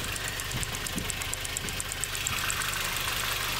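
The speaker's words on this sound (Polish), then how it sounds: "To tak może stukać w tym silniku w aucie." Repetitive ticking knock from a 2002 Audi A4 B6 sedan's 2.0 ALT petrol engine at idle, a steady fast metallic tapping over a low engine hum, close up with no talk.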